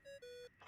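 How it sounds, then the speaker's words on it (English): A device ringtone in Genshin Impact plays two sustained electronic tones, a short one and then a longer, slightly lower one. Each has bright overtones, and a faint noisy burst follows at the end. "I really hate that ringing tone"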